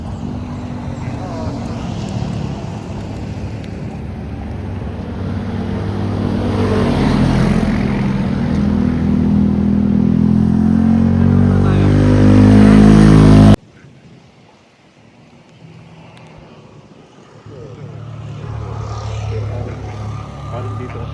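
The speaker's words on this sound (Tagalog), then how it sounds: "Oh, may motor." A motorcycle approaches on a road, its engine drone swelling louder over several seconds before cutting off abruptly. Quieter background sound follows, and voices speak throughout.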